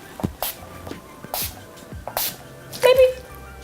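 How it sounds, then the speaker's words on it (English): Several quick, hissing bursts of makeup setting spray, close and sharp, spaced with short pauses, with a faint voice murmuring in between. "I'm just gonna spray myself about 2 or 3 times"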